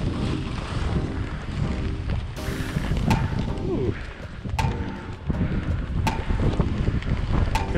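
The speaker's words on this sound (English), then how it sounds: "Here comes that wind." Wind gusts roar across a ski slope at Banff Sunshine Village, rising into a loud rush over the mic partway through, with scattered clicks and bumps and a person's voice exclaiming beneath.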